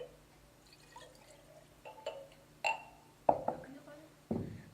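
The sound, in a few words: pouring 1 cup of filtered water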